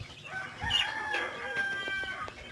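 Chickens at a backyard coop, a rooster crowing nearby with quieter clucking around it, heard briefly and clearly at moderate volume with no talk.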